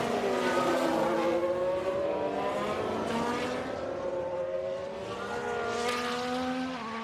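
Ferrari Formula 1 race car in a 2022 Bahrain Grand Prix replay, its high-pitched engine wailing continuously as several cars race past nearby, with rising and falling revs across the pack.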